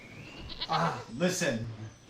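A person imitates a goat's bleat in a brief wavering vocal cry, set among tabletop role-play talk about walking through elven woods; other voices are speaking as well.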